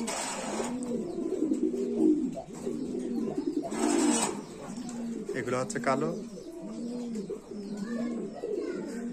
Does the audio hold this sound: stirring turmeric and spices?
no